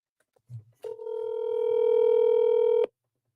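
A telephone call is dialed: a single steady tone sounds alone for about two seconds after a brief click, then cuts off cleanly.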